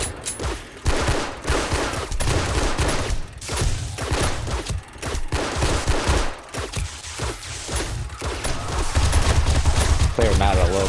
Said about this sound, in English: Clear him out a little bit with the AK, the Overlord.